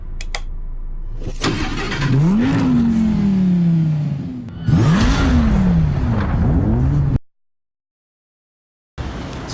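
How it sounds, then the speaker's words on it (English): An Acura NSX hybrid supercar engine revs sharply two or three times, each rise climbing in pitch and then falling away, loud and close, followed by a sudden stretch of silence before the sound comes back. "This is the Acura NSX, and it's a hybrid supercar"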